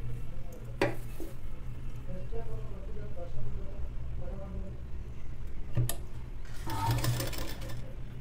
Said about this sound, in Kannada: ಸೊಂಟವನ್ನು ಎಷ್ಟೈತೋ ಅಷ್ಟು ನೀಟಾಗಿ ಸ್ಟಿಚ್ಚನ್ನು ಹಾಕ್ಬಿಡ್ತೀನಿ.